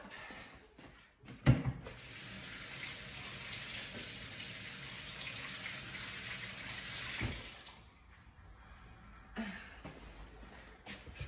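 Tap water runs steadily for several seconds as fresh tomatoes halved for a tomato rice dish are rinsed under it in a kitchen sink, with a brief clatter near the start and a short splash after the flow stops.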